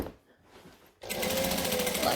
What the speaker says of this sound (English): And then sew again.